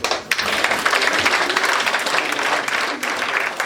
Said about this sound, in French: je souhaite que tout le monde ici applaudisse pour ça